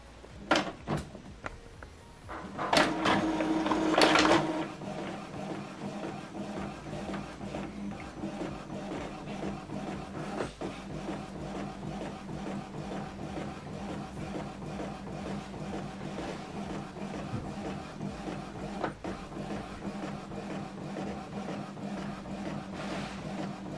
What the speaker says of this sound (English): Now it's printing the network status sheet.